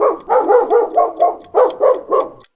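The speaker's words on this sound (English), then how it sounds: "Dog, the house favorite." A dog gives a quick run of loud, close barks, about eight in two bursts with a brief pause between them, heard alone with no talk.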